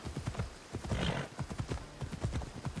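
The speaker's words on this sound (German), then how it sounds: "Oh, ein Pferd." Horse hooves clip-clopping in the video game Assassin's Creed Odyssey: a steady, fairly fast beat of close, soft hoof strikes with a brief whinny in the middle.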